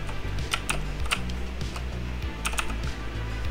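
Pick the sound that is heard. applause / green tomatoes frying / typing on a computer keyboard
typing on a computer keyboard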